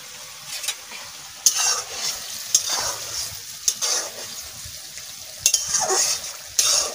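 Fish frying with leafy greens, helencha or red amaranth, in a pan for a curry, with steady sizzling and a few sharp clinks of a spatula stirring against the pan, close and alone without talk.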